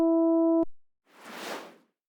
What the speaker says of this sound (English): Now I can play any pad on my Launchpad, and I'm going to hear a sound from my FM Synth.